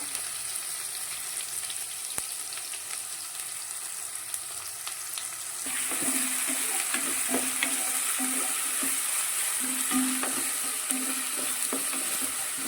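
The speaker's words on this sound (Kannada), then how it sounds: "ಇವಾಗ ಇದಕ್ಕೆ ನಾನು ಈರುಳ್ಳಿಯನ್ನು ಸೇರಿಸ್ಕೊಂಡಿದ್ದೇನೆ" Onion fries in oil for a stuffed brinjal masala, a steady sizzle that grows louder partway through and then carries repeated scraping stirs close by, with no voices.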